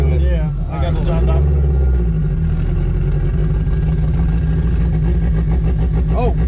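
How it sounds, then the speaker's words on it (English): A turbocharged Honda with a twin-disc clutch idles and rumbles with a loud, steady engine drone and blower surge, heard from inside the car while people talk continuously over it. "Oh, you got the blower surge. Listen to it."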